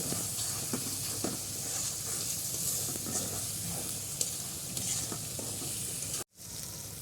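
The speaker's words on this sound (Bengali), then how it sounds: "এখন মশলাগুলো ভালো করে কষিয়ে নেব" Spices sauté in a pan for a rustic taro leaf curry with hilsa fish head, giving a dense, close sizzle and hiss broken by scraping stir strokes, until it cuts off abruptly near the end.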